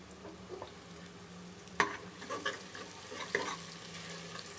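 Ginger frying and being stirred with golden-brown onions in a pan for lobia dal, a soft steady sizzle with scattered scraping stir clicks, moderately close and fairly quiet, no talking.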